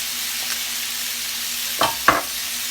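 Plain flour is stirred into melted butter sizzling in a pan, a steady close hiss punctuated by two distinct scraping strokes of a spoon near the end.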